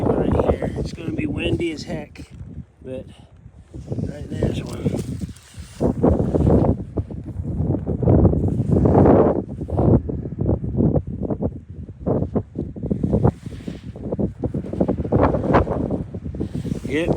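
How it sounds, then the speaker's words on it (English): Strong hurricane wind buffets the microphone outdoors on a rockhounding outing, a loud continuous roar with gusts that swell and fade throughout, and someone talking over much of it. "It's going to be windy as heck"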